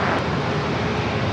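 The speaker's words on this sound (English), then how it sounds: "It's the FedEx feeder ATR coming in from Tijuana, just across the border" A FedEx feeder ATR turboprop landing at San Diego airport gives off a loud, steady broadband engine roar that holds at one level throughout, close by and with no voices.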